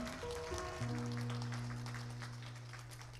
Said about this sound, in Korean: 여러분 뜨거운 축하의 박수 부탁드리겠습니다